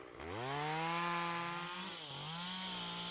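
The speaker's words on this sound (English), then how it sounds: "The chainsaw buzzes away" A chainsaw cutting brush in the Saratoga foothills revs up and whines steadily, its pitch dipping briefly as it bites into material, fairly close and alone.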